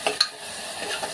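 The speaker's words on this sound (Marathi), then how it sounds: "एकदम छान मसाला भाजतो" Masala for a spicy potato curry fries in oil with a soft, steady sizzle and a couple of quick spoon scrapes near the start, close up and brief.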